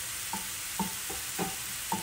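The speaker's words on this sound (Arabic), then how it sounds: "غادي نخلي البصل يتقلى" Onion and pepper fry in oil in a pan, a steady close sizzle broken by regular light stirring taps about every half second.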